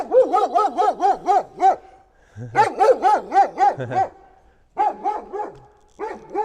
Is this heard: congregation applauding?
no